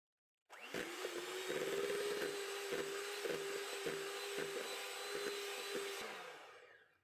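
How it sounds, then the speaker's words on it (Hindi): Electric beater whirring at low speed through butter in a bowl, a continuous motor hum with regular knocks of the beaters against the bowl, close and alone. "अब इसे हम बीट करेंगे लो स्पीड पे जब तक ये मेल्ट ना हो जाए।"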